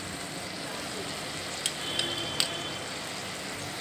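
Spices frying in a pan for Bengali dhokar dalna, a soft continuous sizzle with a few light clinks of a spoon against the pan.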